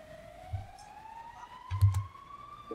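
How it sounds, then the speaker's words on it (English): A siren rises in a long, steady wail inside a video game, faint and distant over a low rumble, with a couple of brief dull thumps and no speech. "Is that siren and ambulance?"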